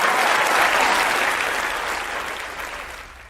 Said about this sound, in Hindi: तो चलिए जोरदार तालियों से स्वागत कीजिए डॉक्टर राम अवतार शर्मा का।